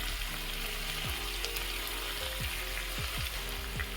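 Tandoori chicken sizzles steadily in oil and its own released juices in an uncovered pan, a constant close frying hiss with a few brief clinks or scrapes and no talking.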